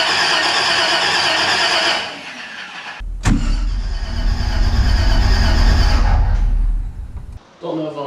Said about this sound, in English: I'm gonna crank it without the ignition just to try to get fuel up to the fuel pump